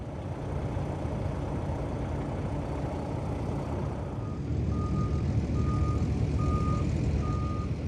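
A truck reverses at a boat launch, its engine rumbling steadily as a regular series of reversing beeps begins partway through, loud and fairly close.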